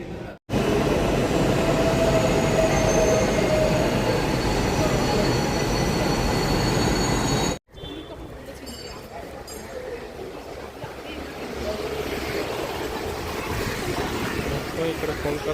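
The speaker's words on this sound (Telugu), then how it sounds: "చాలా డిఫరెంట్గా ఉంది అండర్ గ్రౌండ్ మెట్రో అయితే." An underground metro train in Kolkata runs through its tunnel with a loud, steady roar and rumble and faint wheel squeal, then the sound cuts and a quieter, hollower rolling noise continues, slowly building toward the end.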